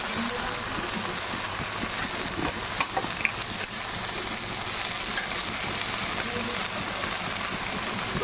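Leafy greens frying in a pan with salt, turmeric and green chillies, a steady dense sizzle holding at an even level throughout with a few brief clinks from stirring.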